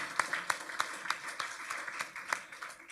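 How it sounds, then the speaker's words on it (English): An audience at a scholarship award ceremony claps, a modest round of applause with distinct individual claps at a moderate distance. "I think that deserves an applause."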